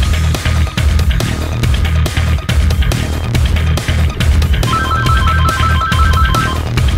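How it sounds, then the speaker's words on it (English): A classical-style phone ringtone plays inside GTA V during a chaotic multiplayer heist shootout, a short repeating melodic pattern rising in the last two seconds over dense gunfire, engine and helicopter noise. "Oh, oh, that's a classical ringtone."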